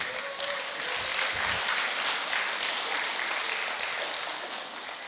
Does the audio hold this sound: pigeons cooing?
no